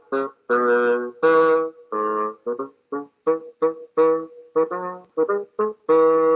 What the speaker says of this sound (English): Here's a bassoon.